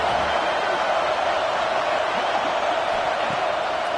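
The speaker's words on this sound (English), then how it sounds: "This crowd bringing the energy and noise early." Continuous dense roar of a packed college football stadium crowd in a Florida Gators video game, a steady wash of noise with no break.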